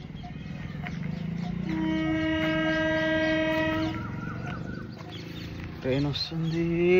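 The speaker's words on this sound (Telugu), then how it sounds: "రైలు వస్తుంది." A train draws near with a long, steady horn blast over rumbling, then squealing and clanking as it passes, with people talking throughout.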